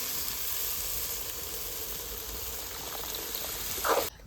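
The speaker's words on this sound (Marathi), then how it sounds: "आपण आता गरम केलेलं पाणी टाकून घेतोय" Hot water poured into cooked black urad dal in a kadhai gives a steady, close sizzling hiss throughout, with a brief louder splash just before it ends.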